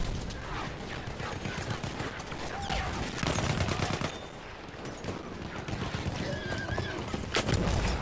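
In the video game Battlefield 1, a horse whinnies briefly amid dense, continuous gunfire and battle noise, the neighs short and partly buried in the din.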